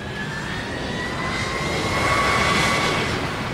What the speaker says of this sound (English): He pushed the throttles up. He said, "We go." The aircraft started to roll.